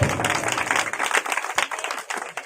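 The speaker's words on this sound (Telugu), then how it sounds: "గట్టిగా చప్పట్లు కొట్టి దేవుడికి స్తోత్రాలు" A church congregation claps loudly together, a dense burst of applause that thins and tapers toward the end.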